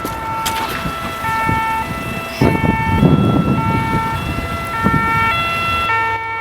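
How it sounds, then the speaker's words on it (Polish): A loud ambulance siren wails in a repeating two-tone pattern as the ambulance pulls up to an arrest scene, with engine and road rumble beneath it and a brief knock partway through. "Na miejscu zatrzymania poszukiwanego mężczyzny przyjeżdża wezwana przez detektywa Sobolewskiego karetka."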